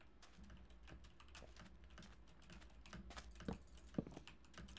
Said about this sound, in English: A little keyboard, a little clickety-clack.